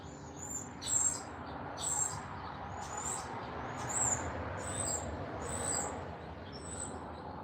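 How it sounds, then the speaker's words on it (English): An unfamiliar bird calls outdoors in spring, repeating short bright chirps roughly once a second over a steady outdoor hiss, moderately near and clear, with no talking. "I hear a new bird call"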